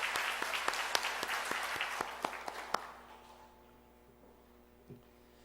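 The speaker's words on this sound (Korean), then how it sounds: "우리 영광의 박수를 올려드립니다" A church congregation applauds after a hymn, a dense wash of clapping with a few sharp claps standing out. It fades away after about three seconds into a quiet, humming room.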